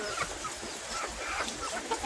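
Chickens clucking in a coop shared with pigeons, soft scattered clucks that stay fairly faint against a steady background hiss.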